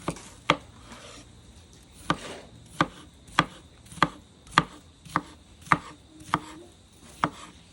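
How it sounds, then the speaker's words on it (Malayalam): A knife chops watermelon into small pieces on a cutting board, with about eleven sharp, evenly spaced thuds landing at a steady rhythm, close and clear with no voices. "അടുത്ത് നമ്മൾ തണ്ണിമത്തനാണ് കേട്ടോ അരിയാൻ പോകുന്നത്."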